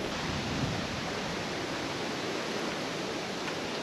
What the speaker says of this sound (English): a little bit windy, as you can hear and feel there